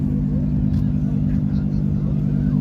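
A Porsche Turbo S with a carbon hood idles and rumbles nearby at a busy car meet, a deep steady engine drone throughout, with faint crowd noise.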